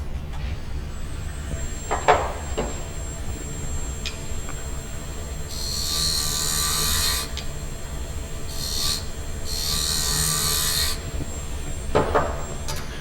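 Wood lathe turning a small wooden box, with a steady, moderately loud whirring rumble, bursts of bright hissing cutting or sanding at intervals, and a few sharp knocks near the start and end.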